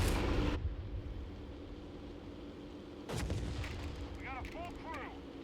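American mortar airburst shells in Company of Heroes 3: a loud blast at the start and another sharp explosion midway, over a steady battlefield rumble, with faint chirping effects near the end.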